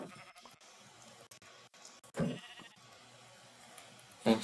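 Sheep in a video game giving two short, clear bleats, the second near the end, over a quiet background of faint clicks and ambience.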